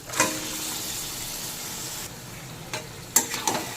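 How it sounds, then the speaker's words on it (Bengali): Marinated chicken hits hot spiced oil with a steady close sizzle and frying hiss, broken by a few sharp spatters and stirring clinks. "এবার যে চিকেনটা ম্যারিনেট করে রেখেছিলাম সেই চিকেনটার মধ্যে দিয়ে দেবো।"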